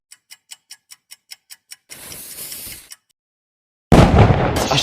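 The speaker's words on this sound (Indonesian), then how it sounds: "Kayaknya suara petasan" Firecrackers go off as an animated-film sound effect: a rapid string of about nine sharp ticking pops, then a crackling burst, a moment of silence, and a loud roaring blast close by.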